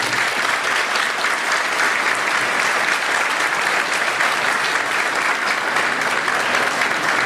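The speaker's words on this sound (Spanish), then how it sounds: "quisiera un fuerte aplauso para los dos" A full audience applauds loudly and steadily at a formal ceremony in Chiclayo, Lambayeque. The dense clapping runs evenly for the whole stretch, with no voices standing out above it.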